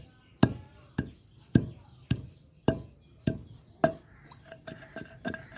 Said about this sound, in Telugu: ఇలా మధ్య మధ్యలో కదుపుకుంటూ దంచుకోవాలి